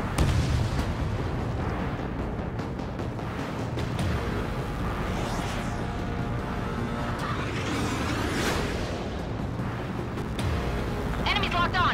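Video game combat at a harbor under heavy attack: dense, continuous rumbling explosions and artillery blasts fill the whole stretch, with sharper bursts and whooshes rising over the din and game radio voices talking throughout.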